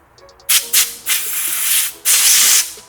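Compressed air blown into an Icon Vehicle Dynamics 2.5 shock absorber during service: several loud close hissing bursts, the last one longest, with no talking.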